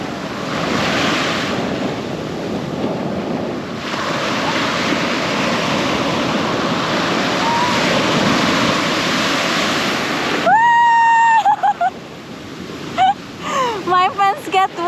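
Big ocean waves crashing at Kelingking Beach on Nusa Penida, a loud continuous roar of surf with heavy wind buffeting the microphone, followed by excited voices near the end.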